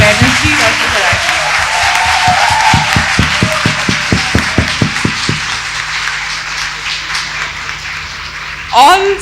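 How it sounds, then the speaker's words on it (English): A round of applause for a woman who spoke on feminisms in the 21st century, heard as many hands clapping in a steady roll, with a rhythmic pulse partway through, then thinning as a voice comes in near the end. "So big round of applause to her"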